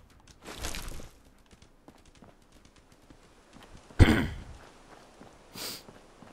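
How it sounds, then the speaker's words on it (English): Coughing from someone playing Fallout 4 on PC: a few separate, sharp coughs and throat-clearing bursts spread across quiet game background, one much louder and close. "Sorry for all the coughing."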